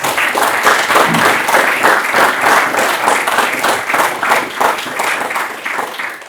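Listeners at a lecture welcome guest speaker dr. Božo Cerar with loud, close applause, individual claps pulsing rhythmically within the crowd's clapping for several seconds before it begins to thin.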